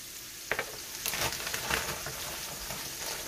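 Apple slices frying in a skillet, a continuous moderate sizzle with occasional soft clicks and shifting bursts as the pieces are moved about, no talking.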